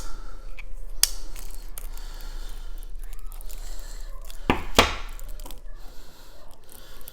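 A stack of Charty Party party-game cards being unwrapped and opened, with crinkly rustling, a sharp snap near the start and a louder tearing burst toward the end, close up and with no talking.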